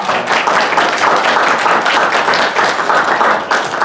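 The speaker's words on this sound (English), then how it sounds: "So she deserves a round of applause." Steady applause fills a town board of aldermen meeting room, a dense, continuous wash of many hands clapping at an even loudness throughout.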